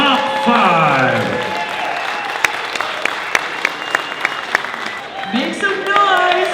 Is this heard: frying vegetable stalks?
no